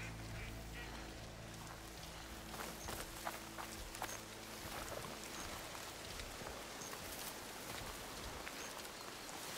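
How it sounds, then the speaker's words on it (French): Quiet, steady rain patters across the scene in the game Horizon Forbidden West, a soft continuous hiss with faint footstep-like taps mixed in. "Voilà la pluie."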